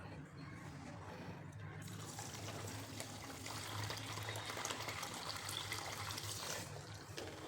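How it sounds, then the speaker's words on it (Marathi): Finger millet (nachni) being washed in a generous amount of water while making papad: a steady, close swishing and pouring of water that continues throughout, with faint voice at times. "तर आता अगोदर धुवून घ्यायचे आपल्याला"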